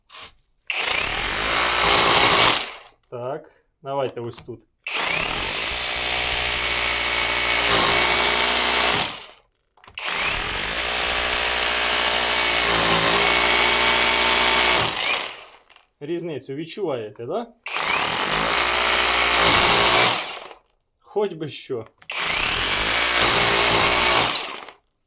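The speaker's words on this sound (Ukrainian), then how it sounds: "Акумуляторний перфоратор." A cordless rotary hammer roars in several loud bursts of drilling separated by pauses where someone speaks briefly.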